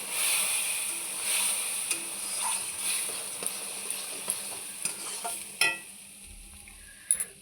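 Milk, made from powdered milk dissolved in hot water, is poured into a hot pan while making suji and stirred, giving a soft sizzle with scraping spoon strokes and occasional clinks, close and moderately loud, no talk.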